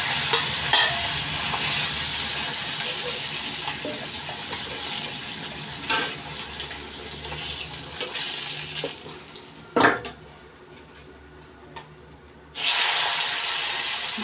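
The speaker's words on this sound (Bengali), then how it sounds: "মাছ ভাজা হয়ে যাচ্ছে।" Fish frying in a pan, a steady close sizzle and spatter that carries on for most of the stretch, with a few utensil knocks, a brief lull and then a loud burst of sizzling near the end.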